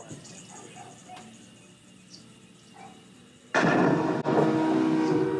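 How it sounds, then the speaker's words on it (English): A sudden loud clattering crash as several small toy train cars, shooting gallery targets, topple, following quieter mechanical background noise. "It knocked over all the train cars."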